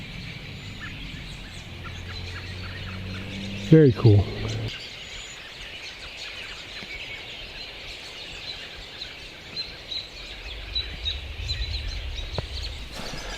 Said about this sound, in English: The birds, there's hundreds and hundreds of birds, types, all types.